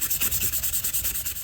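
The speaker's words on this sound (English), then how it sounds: "I'm just going to go through and polish the blades with it." Metal fishing-lure blades being polished by hand, a fast regular back-and-forth rubbing with about a dozen quick scrubbing strokes, close and steady with no voices.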